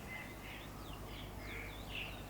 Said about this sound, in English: Somewhere in the distance, the sound of birdsong was beginning to break the silence of the night